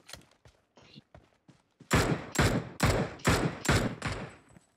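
Gunfire in the mobile video game PUBG: scattered faint shots at first, then a run of six loud, evenly spaced bursting shots, close and sharp, with no talking over them.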